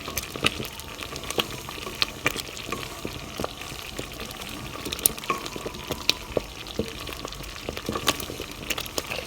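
A pot of cranberry sauce bubbles and pops steadily at a low simmer, irregular little bursts over a soft hiss, close by with no voices.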